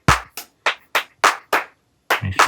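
A clap sample in Bitwig triggered seven times in quick succession: crisp, dry claps in a loose rhythm with short silences between, the last one doubled and slightly muddier, with no voice.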